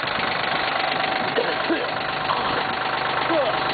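A Cub Cadet diesel tractor idles steadily after start-up, a constant mid-pitched engine drone with a faint knock, while a person talks briefly over it.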